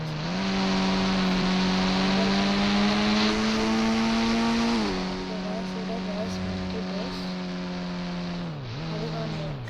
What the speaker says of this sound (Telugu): కార్ అయితే వచ్చింది.